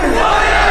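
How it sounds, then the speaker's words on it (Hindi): A dense, roaring crowd of rioting supporters surges against police during violent unrest in Nagaur, Rajasthan, a loud continuous wall of shouting voices with no single speaker standing out. "पुलिस वालों पर ही उल्टा हमला कर देती है ये भीड़"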